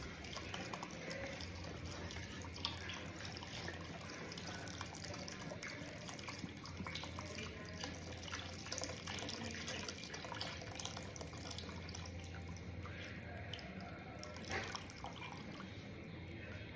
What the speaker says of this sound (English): So I'm gonna add chicken stock.